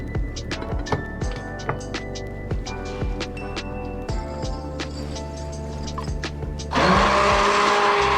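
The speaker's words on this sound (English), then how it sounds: "I'm going to blend these up with an immersion blender" An immersion blender whirs in short repeated pulses through tomato soup made with butter, then runs continuously and louder at the end, close and with no talk.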